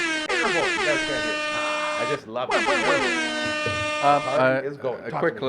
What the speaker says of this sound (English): horn, air horn, air horn, air horn